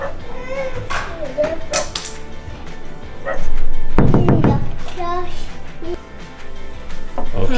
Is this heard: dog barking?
yes